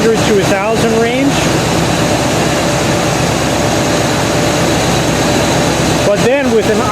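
A Buick car engine runs steadily at a fast, high idle, a constant droning hum, with a person talking over it at the start and again near the end.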